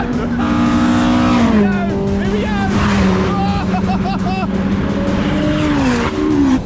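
Ford Focus ST race cars run hard on a track at a Ford Power Live event, engines droning loud and near with rising and falling pitch, while excited spectators shout and cheer throughout.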